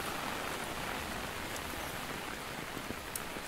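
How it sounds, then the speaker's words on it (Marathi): Steady rain falls on a green hillside path near a temple at Kadavpada, Vangani, a constant close hiss of drops on foliage and ground with no voices. "छानसा पाऊस पडतोय"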